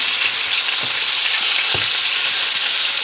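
Cold-smoked filet mignon steaks sear in a hot pan on the stove with a loud, dense, continuous sizzle. A couple of soft knocks from the pan or utensil come through near the middle, and no one speaks.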